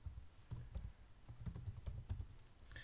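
Steady typing on a computer keyboard while entering a welcome message into a Python program, with clustered key clicks of irregular rhythm, fairly close and quiet, and no talk over it.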